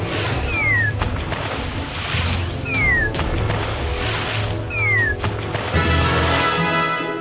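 Three rising, whiny cat meows in a My Little Pony video game, spaced a couple of seconds apart, set over a steady bed of game music with low rumbling and watery ambience.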